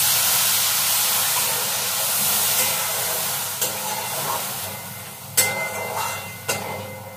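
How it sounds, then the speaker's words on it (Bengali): Water poured into a hot pan of spices with ground coriander for a Bengali kajli fish curry, a steady broad sizzling hiss throughout, with a few sharp clinks of utensils near the end and no talk. "জল ঢেলে দেবো।"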